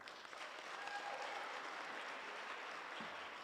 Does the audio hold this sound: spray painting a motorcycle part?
no